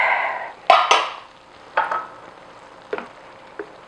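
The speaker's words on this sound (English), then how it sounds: "I'm going to stir it around." A utensil stirs soft, mushy vegan cauliflower ragu in a pot, with several sharp scrapes and clanks against the pot, the first few louder and the later ones fainter and spaced apart, over a faint background hiss.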